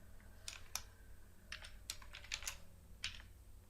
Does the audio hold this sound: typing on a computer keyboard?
yes